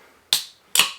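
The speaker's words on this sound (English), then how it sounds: "let's crack the can." A beer can from Southern Grist Brewing is cracked open, making two sharp, close metallic clicks and hisses about half a second apart, with nothing else heard.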